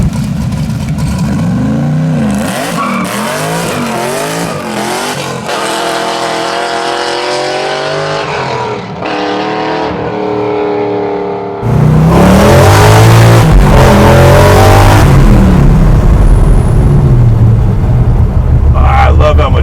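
A Chevy C10 pro touring build's engine revs loudly and repeatedly with rising and falling pitch, then breaks into a harder, fuller roar near the end with the brake held.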